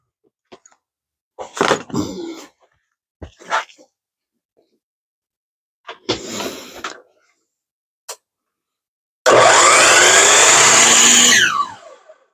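A miter saw cuts wood for rustic candle shrouds in one loud, roughly two-second burst near the end, following several short, scattered knocks and brief noises separated by quiet gaps.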